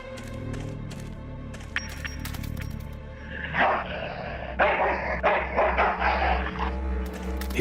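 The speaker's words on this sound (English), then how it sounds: "That's one ill-tempered mongrel." An ill-tempered mongrel barks in a cutscene of the Full Throttle Remastered video game, several loud rough barks in quick bursts following softer yips and whines, with no speech over them.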